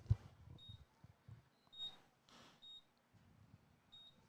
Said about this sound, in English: There's that beeping noise.